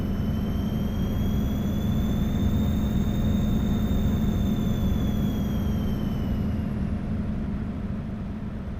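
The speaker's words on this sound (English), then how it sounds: "Pretty quiet engine, mostly just turbo noise." A Freightliner Cascadia truck in American Truck Simulator cruising with a low steady engine drone and a high whining turbo whistle that slowly rises and falls, continuous and unbroken.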